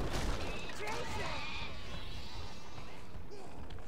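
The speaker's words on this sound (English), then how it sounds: "Bunch of sheep over here, but they might be hiding something." Sheep bleating in the video game Overlord: Raising Hell, a few short wavering bleats early on over a faint, busy game ambience, fairly quiet overall.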